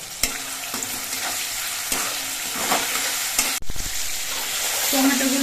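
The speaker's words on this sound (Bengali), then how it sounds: "এবার এর মধ্যে টমেটো কুটিগুলো দিচ্ছি এবার এর মধ্যে পরিমাণ মতো নুন দিচ্ছি" Chopped tomatoes with salt frying in hot oil in a pan, making a dense, continuous sizzle close by, broken by a few sharp scrapes and knocks of a stirring spoon.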